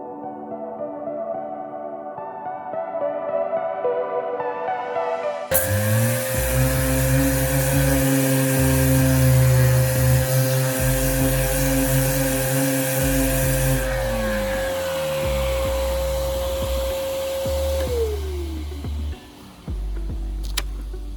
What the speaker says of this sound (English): sanding where I put my patches for all my blisters and sanding that smooth